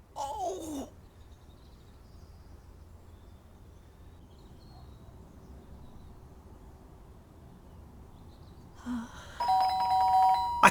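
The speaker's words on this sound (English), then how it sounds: "The doorbell went again" A doorbell in the game Fragments of Him chimes at the start, then again near the end with a clear two-tone ring over quiet room ambience.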